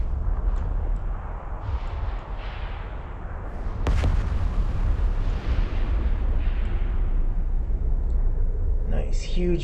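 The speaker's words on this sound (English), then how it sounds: "Nice, huge explosion." A huge explosion in the space game EVE Online, a loud sustained blast with a sharp crack near the middle that rumbles on heavily to the end, with a faint voice underneath.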